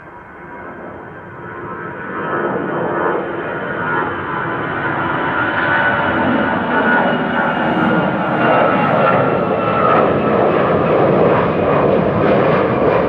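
Aer Lingus jet airliner taxiing at Amsterdam Schiphol, a loud steady engine roar with a broad whine that swells slightly and holds throughout.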